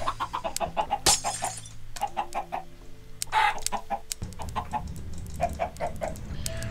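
Chickens in a video game cluck in quick repeated bursts, with a short crow and occasional sharp hits mixed in, close and busy, with no speech.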